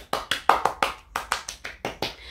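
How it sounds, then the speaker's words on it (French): A short burst of applause with about ten distinct, fairly sharp claps at an uneven pace, close by and without any talking. "Applaudissements."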